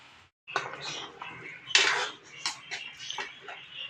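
Metal pot lid set onto a cooking pot of Filipino bulanglang vegetable stew with malunggay, alugbati and ampalaya leaves, giving several close clinks and clatters of metal against metal in a home kitchen.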